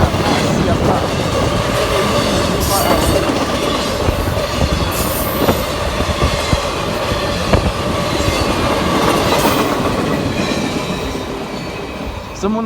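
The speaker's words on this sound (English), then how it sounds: "Someone was running a CSX IO10" CSX IO10 freight train rolling past at Lake Avenue in Blasdell, NY, a loud continuous rumble of railcars with clickety-clack and squealing wheels, close by.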